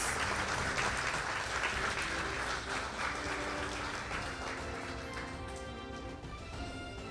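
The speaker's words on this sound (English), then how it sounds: "Let us give the gentleman here a round of applause." Sustained applause from a crowd at a railway contract signing ceremony, dense clapping that holds steady and slowly tapers off toward the end.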